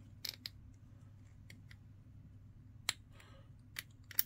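Scissors snip plastic edges off a Legion Cataphractii Terminator Sergeant miniature part, giving a few sharp, close clicks spaced apart over a low steady room hum.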